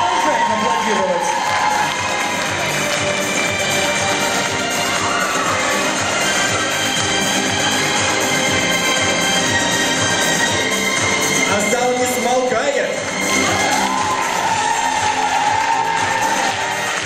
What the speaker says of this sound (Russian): Продолжаем аплодировать.